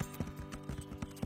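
Cartoon horse hooves from the animated series Horseland clip-clop at a steady walking pace, heard as soft, regular thuds repeating about every fifth of a second throughout.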